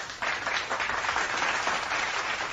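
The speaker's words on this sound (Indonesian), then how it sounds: "Tepuk tangan buat Pak Sukirman." A studio audience claps for Pak Sukirman, a brief, dense burst of applause that starts abruptly and continues evenly at a moderate level.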